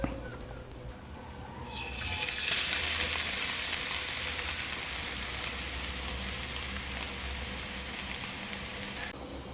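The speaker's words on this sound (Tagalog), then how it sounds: "i-golden brown muna natin yung ating bawang o garlic" Garlic sizzles in a hot pan while browning for an oyster sauce, a steady crackling hiss that swells after a couple of seconds and carries on evenly, with no voice over it.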